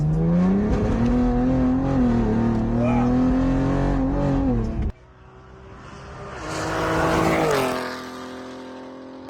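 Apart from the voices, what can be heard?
625 whp Cadillac ATS-V car driving, engine revving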